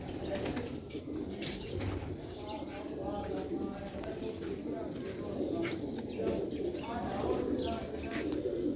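Sialkoti red-beaded pigeons coo in low, repeated rolling calls close by, with occasional wing flutters and background murmur throughout.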